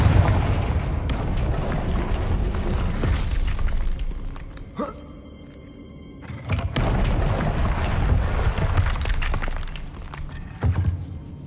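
A Confringo fire spell exploding in the Hogwarts Legacy video game, with loud, dense booming blasts that fill the soundscape, then a brief quieter break before another heavy roaring burst.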